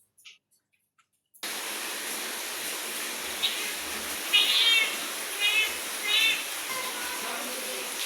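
A female house cat meows several times, fairly faint, against a steady hiss of heavy rain during a nor'wester storm at night in a home without power.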